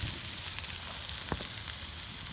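Steady, close sizzling of food, including chicken, frying on a hot grill at a campsite, a constant crackling hiss with occasional small pops.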